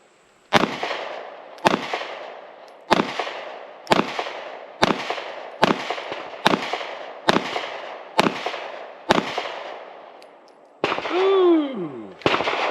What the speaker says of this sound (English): I'm just going to shoot.